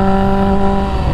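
A Kawasaki Ninja H2 motorcycle engine roars close and loud, its steady, strongly tonal howl holding high revs without a break while it accelerates through a canyon ride.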